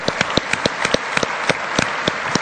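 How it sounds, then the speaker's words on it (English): A conference audience claps together in a steady burst of applause, dense and continuous with sharp individual claps standing out. "Shall we give them a big round of applause?"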